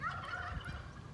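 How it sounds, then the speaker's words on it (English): A turkey lets out one short, loud gobble nearby, answering a person's call, alone with no talking over it. "He's answering me when I say gobble, gobble, gobble."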